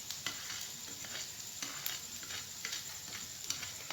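Okra frying quietly in a pan with red chilli powder, crushed chilli, salt and turmeric, a soft hiss with light irregular pops and stirring ticks, faint and close, no voices.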